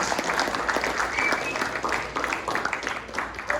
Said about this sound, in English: let's give a round of applause for our two.